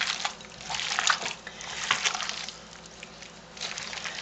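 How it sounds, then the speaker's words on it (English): Tap water runs steadily as hands are washed with Dawn dish detergent at a kitchen sink, a close, continuous splashing hiss with slight surges and no talking. "Wash your hands well."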